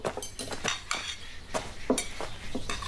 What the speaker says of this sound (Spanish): Estás poniendo los platos y los cubiertos.